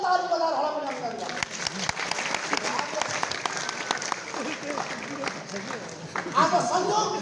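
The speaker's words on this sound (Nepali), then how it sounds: "तपाईँ सबैले ताली बजाएर होला पनि अभिनन्दन।" Audience clapping at a Nepali political gathering, a sustained burst of scattered applause from a crowd, with a voice on a microphone speaking over it.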